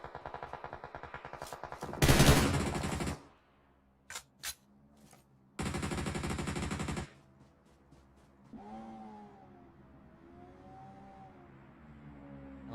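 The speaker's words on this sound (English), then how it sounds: "Nice, beautiful controlled shots." Gunfire from PUBG Mobile erupts during a tournament match as two long, loud automatic bursts, separated by a couple of single sharp shots, with quieter game ambience and tonal sounds afterward.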